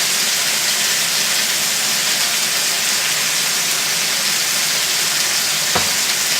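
Food fries in a hot pan toward a golden brown crust, a loud, dense, unbroken sizzle up close with no pauses or talk.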